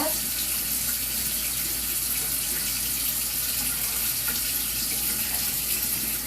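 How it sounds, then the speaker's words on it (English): Tap water runs steadily into a sink while hands are washed, a constant close splashing hiss with no break, no speech. "wash my hands for real"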